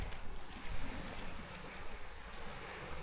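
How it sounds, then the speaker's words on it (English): Surf washing onto a sandy beach at Brook Chine, a steady broadband rush of breaking waves with wind buffeting the microphone throughout, fairly close and continuous with no talking. "So this is the beach."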